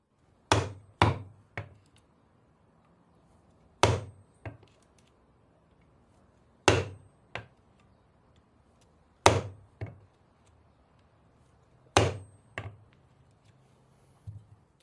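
A sharp steel chisel strikes into wood in sharp, close knocks, usually a quick pair or trio of hits followed by a pause, repeating five times against a quiet room with no voices.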